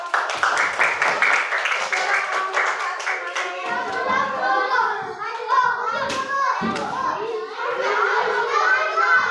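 A group of schoolchildren claps together in a classroom, the quick rhythmic patter close and lively, mixed with the children's chatter and excited voices.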